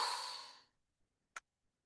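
Breath pushed out during a Pilates exercise, a soft airy exhale that fades over about three quarters of a second, followed by quiet with a faint brief click.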